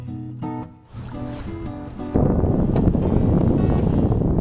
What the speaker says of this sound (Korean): 바람이 이렇게 앞에서 불어. 맞바람.